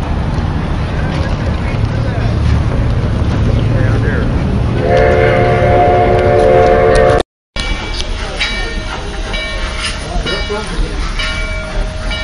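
Durango and Silverton steam train at a railfest, backing up to take on sand, heard as a steady rumbling engine and rail noise with a sustained whistle-like tone partway through, amid outdoor chatter.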